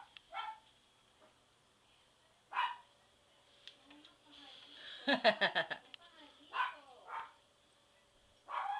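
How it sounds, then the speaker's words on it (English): Several short yipping barks from a house dog at close range, in quick bursts spread across the clip, with quiet gaps between them and a few faint indoor noises. "that's a doggy"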